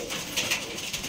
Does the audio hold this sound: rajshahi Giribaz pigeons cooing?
yes